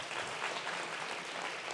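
Faint, steady audience applause from a crowd at a Geneva sports awards night, an even wash of clapping heard alone for a moment, distant and low in level.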